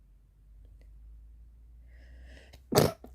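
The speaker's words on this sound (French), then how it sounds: "Atchoum, pardon, excusez-moi." A single sharp sneeze bursts out close to the microphone after a quiet stretch of faint breathing and a soft inhale.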